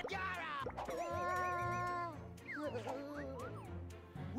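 Enemy cat meowing during a boss battle in the Cookie Run: Witch's Castle puzzle game, a series of wavering, drawn-out cartoonish meows and yowls, fairly loud against game music, with talk mixed in.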